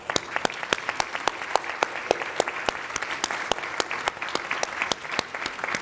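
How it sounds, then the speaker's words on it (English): Audience at a complete streets economic development event applauds hotel service workers, a steady crackle of many hands clapping with sharp individual claps standing out, loud and continuous for several seconds. "they deserve a round of applause."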